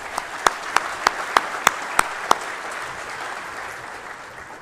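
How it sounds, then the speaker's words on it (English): Conference audience applause at an academic association's annual meeting, broad soft clapping under a row of sharp, evenly spaced loud claps near the start, then a steady fading wash of applause. "Let's give our planning committee a round of applause for their hard work in advance."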